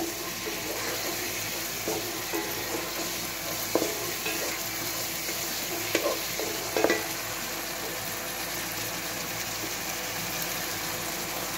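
Cumin and chili spice paste fried and stirred in a pan: a steady, moderate sizzle runs throughout, with a few sharper scraping clicks of the spoon against the pan near the middle, no talking.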